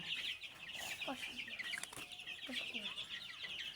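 Egyptian Fayoumi chickens raised on a small farm cluck softly in a steady stream of short, repeated calls under a constant faint background hiss.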